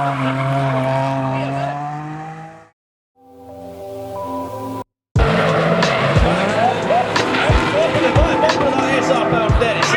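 A BMW E46 drift car at a Scottish drift championship round screams past with a sustained engine howl, then a sharp cut and a burst of loud tire squeal and skidding with bouncing revs, close and alone.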